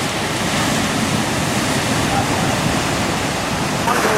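Ocean waves breaking near London as a continuous loud wash of surf that fills the whole span, with no clear separate crashes.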